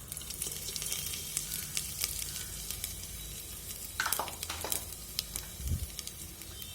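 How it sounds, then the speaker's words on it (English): Cloves and cinnamon fry in hot oil with a loud, continuous sizzle and hiss, broken by several sharp spoon scrapes and stirring clatters toward the end. "And then we will add these cloves and dalchina, like lavangal and dalchin chakka for this."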